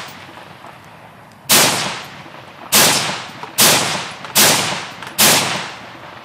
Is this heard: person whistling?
no